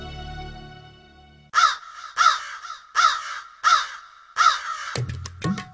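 Cartoon crows caw loudly, five harsh evenly spaced calls close by, then a quick flurry of sharper caws at the end, after a short stretch of quiet music.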